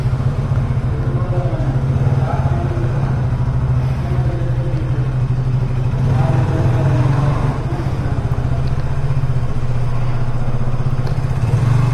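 A KTM Duke 160 motorcycle being ridden away from a showroom, its engine droning steadily and close with a low, constant hum and wind noise throughout, no talking.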